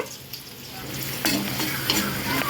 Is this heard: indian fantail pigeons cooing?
no